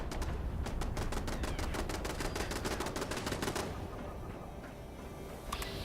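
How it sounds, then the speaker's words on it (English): Automated turrets fire rapid bursts of gunfire in Fallout 76 during a workshop defense at Mount Blair, a loud, steady rattle of shots that stops partway through, leaving a low ambient hum and a faint final tap. "the sound of the turrets firing draws me back up"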